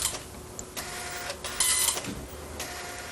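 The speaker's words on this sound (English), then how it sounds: "At any stage, prints can be made on a dot matrix printer." A 1980s dot matrix printer prints, producing buzzing, rasping passes of the print head broken by short pauses and carriage moves, close and continuous.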